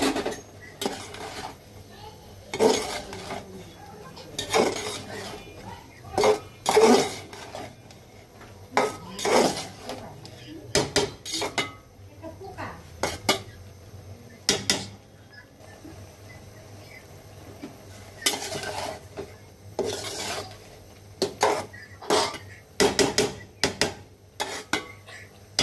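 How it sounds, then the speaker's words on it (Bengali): Metal lid lifted off a cooking pot and cabbage stirred inside with salt and green chilies, bringing repeated clanks and scrapes of utensil on pot in irregular bursts over a low steady background hum. "ঢাকনাটা উঠিয়ে নেড়ে চেড়ে দিব।"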